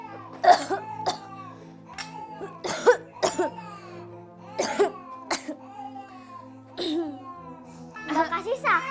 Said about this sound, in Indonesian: cuman batuk biasa